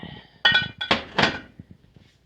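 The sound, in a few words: dishes clinking while being washed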